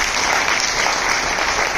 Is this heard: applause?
yes